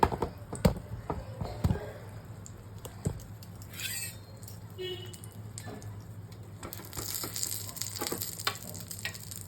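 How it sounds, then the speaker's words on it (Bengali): Long eggplant slices, rubbed with salt and turmeric, fry in a pan with a faint, steady sizzle, broken by a few sharp clicks and taps of cookware in a quiet kitchen. "দেখো বেগুনটা ভাজা হচ্ছে।"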